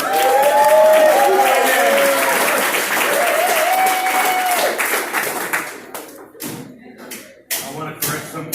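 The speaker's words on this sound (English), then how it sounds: "let's please give a round of applause for Mr. Charlie, the man with the plan" A café audience applauds as a presenter is introduced, with dense, loud clapping over the first several seconds that breaks into scattered separate claps and thumps toward the end, with voices mixed in.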